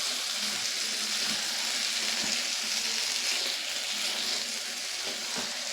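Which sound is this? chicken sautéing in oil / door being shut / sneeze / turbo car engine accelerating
chicken sautéing in oil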